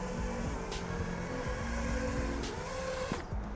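An FPV freestyle drone fitted with T-Motor F40 Pro III motors buzzes loudly and steadily. Its pitch rises and falls in quick whining sweeps as the throttle changes, fairly close, with no talking.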